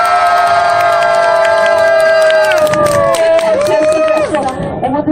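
A crowd cheers and whoops at a playful gisaeng selection contest at a Korean folk village, with loud sustained shouting voices and clapping that fill the whole clip, the tones wavering and dropping near the end.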